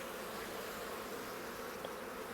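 Honey bees buzz at the hive in a soft, continuous, dense drone of many insects, steady and fairly faint throughout.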